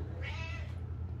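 A house cat gives a single drawn-out meow, fairly close, over a steady low hum in an indoor room.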